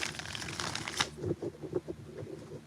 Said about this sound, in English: Four shuffles.